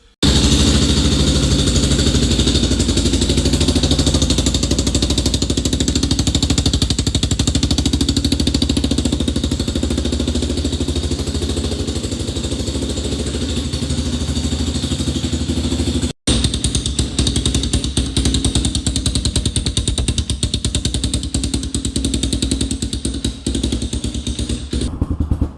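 A Yamaha Raptor ATV engine runs steadily and loud close by, a rough idle with mechanical clatter for the whole stretch, with a brief cut near the middle before it carries on.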